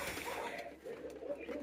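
Pigeons at a bird market in Bangladesh give soft, throaty cooing calls, repeated in short low phrases close by over faint background murmur.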